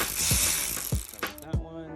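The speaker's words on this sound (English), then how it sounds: "now we have some Torx bolts to remove. These are T15" Quick ratchet clicks come in three short strokes as a T15 Torx bolt is loosened inside a 2011-2018 Porsche Cayenne Turbo during A/C blower motor work, close up and without speech.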